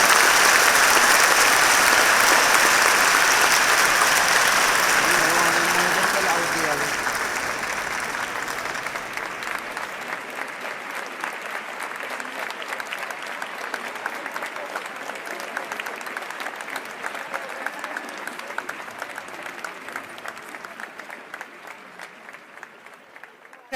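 At a school graduation ceremony, an audience gives a big round of applause for the teachers: loud, dense clapping for several seconds that gradually dies down into scattered, fading claps.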